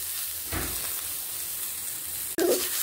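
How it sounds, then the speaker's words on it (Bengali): Green beans fry under a lid over a low flame, giving a steady soft sizzle and hiss with a couple of brief louder bursts. "বিনসগুলোকেও এবার আমি একদম লো ফ্লেমে ঢাকা দিয়ে ভেজে নেব।"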